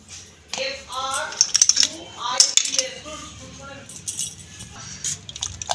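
Salt being stirred into a small amount of water over green olives in a pressure cooker pot, with light metallic clinks and scraping that come and go under a spoken voice.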